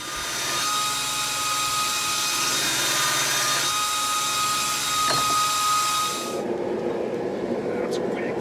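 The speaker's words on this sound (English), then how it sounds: "I'm going to go through and grind all the mill scale off all these pieces" An angle grinder strips mill scale off steel pieces being prepared for a Damascus billet, a loud high whine that runs steadily for about six seconds before stopping and leaving a quieter rumble.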